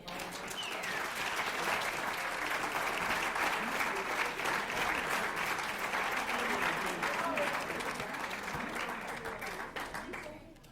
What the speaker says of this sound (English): Coach Kilcoyne deserves a round of applause too.